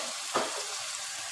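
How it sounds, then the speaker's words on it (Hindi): Spices such as turmeric, crushed chili, salt, ginger and garlic fry with tomato in a pan, a close, steady hiss broken by one sharp stirring scrape. "अच्छी तरह से भून लेते हैं इसको"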